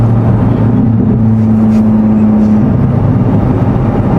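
Chevrolet Corvette C8 Z06 with a new aftermarket exhaust, heard from the cabin while driving: a loud, steady low engine drone with a held humming tone that fades partway through, no voices.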